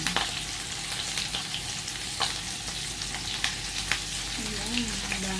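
Shrimp fry with garlic in a hot pan, a dense, steady sizzle with sharp crackles and pops close up, a faint voice briefly audible near the end.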